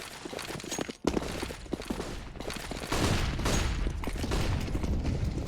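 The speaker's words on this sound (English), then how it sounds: "There's so many nades." Many grenades go off at once during a competitive Counter-Strike match, making a dense, loud, continuous barrage of overlapping blasts and crackle that swells and stays heavy to the end.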